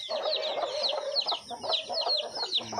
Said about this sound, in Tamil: அது ரெண்டு தாய் கோழியில் போச்சு இந்த குஞ்சு இன்னும் ஏறி வெளில போகிறதில்ல